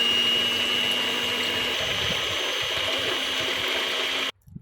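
An electric mixer whirs continuously, beating sugar and milk for a homemade cake batter, a steady motor hum with a faint liquid churn that stops abruptly near the end.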